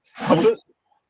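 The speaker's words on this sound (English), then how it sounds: "If you got to sneeze, you got to sneeze." A single sharp human sneeze bursts out close and loud, short and forceful, then drops into quiet.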